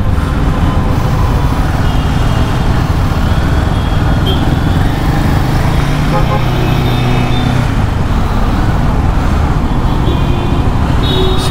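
A Royal Enfield Himalayan 450 motorcycle rides through city traffic, with loud, steady engine and road rumble running unbroken from start to finish.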